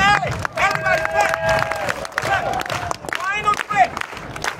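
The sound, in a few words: audience clapping at juggling show finale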